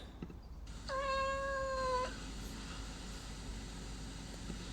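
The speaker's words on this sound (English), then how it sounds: "a cat which we will be cloning. I have few samples. Let's listen to them" A single drawn-out cat meow, clear and fairly close, lasting about a second over a faint background hum.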